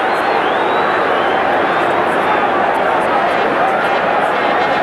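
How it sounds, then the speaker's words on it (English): Rugby league crowd at Widnes v Canberra hooting and jeering after a controversial refereeing decision, a loud, dense, continuous roar of massed voices filling the whole stretch with no pauses. "The crowd hooting Daly"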